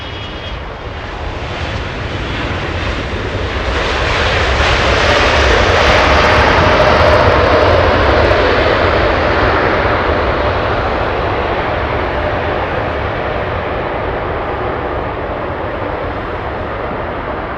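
An Eva Air Boeing 777 landing at Los Angeles International Airport, its jet engines roaring in a broad wash that swells to a close, loud peak midway and then slowly fades while staying strong.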